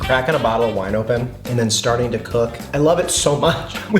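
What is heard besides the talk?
No distinct noise like a dog, phone or traffic.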